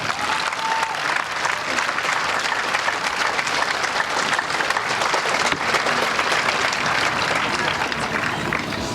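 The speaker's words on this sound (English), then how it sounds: "Please give them a round of applause for their perseverance." An audience at a Relay for Life event applauds, a loud, dense and sustained burst of clapping from a large crowd that stays steady for the whole stretch.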